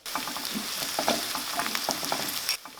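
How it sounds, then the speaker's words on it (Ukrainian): Chopped onions crackle and sizzle in hot oil over medium heat for borscht, with scattered pops and a stirring scrape, steady throughout before cutting off near the end. "Спочатку на олії на середньому вогні посмажили нарізану цибулю."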